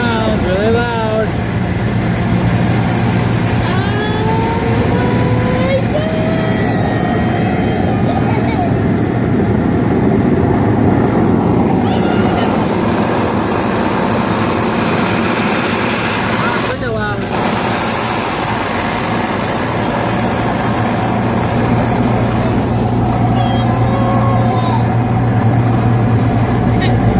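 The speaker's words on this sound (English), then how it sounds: "This is a car wash video on my phone." An automatic car wash in North Adams, Massachusetts, its machinery running loudly with a steady heavy drone and rushing noise throughout, heard from inside the car, with occasional faint voices under it.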